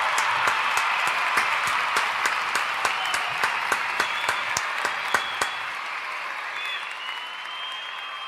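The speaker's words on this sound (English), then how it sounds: "Another round of applause for everybody" A live crowd gives a round of applause, a dense steady wash of many hands clapping with sharp individual claps popping out, gradually thinning and fading toward the end.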